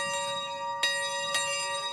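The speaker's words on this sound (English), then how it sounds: "Eric Sterling and his daughter Avis ring the dinner bell in the main lodge at West Branch Pond Camps" A dinner bell rung in the main lodge at West Branch Pond Camps, a wooden lodge in the woods near Moosehead Lake, with two clear strikes whose bright metallic tones ring on and sustain throughout.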